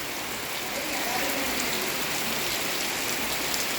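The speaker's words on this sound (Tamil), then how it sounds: "மழையை பாருங்க" Steady rain pours down, an even, dense hiss of drops that continues without a break.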